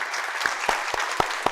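A crowd at a youth town hall claps for the mayor of Atlanta, a dense, steady patter of hands with a few sharper individual claps standing out close by.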